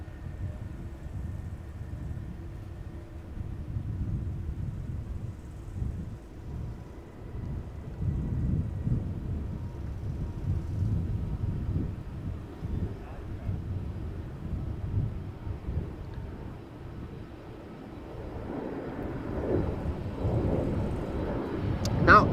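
A Boeing Dreamliner jet taking off at Amsterdam Schiphol makes a low, distant, rumbling roar mixed with wind buffeting, swelling toward the end.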